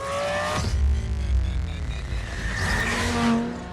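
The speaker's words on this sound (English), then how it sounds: "There's a demolition derby in this high rise." Cars in a demolition-derby style action scene inside a high-rise roar and skid with squealing tires and engine rumble, a loud continuous mix with a heavy impact early on, without talk.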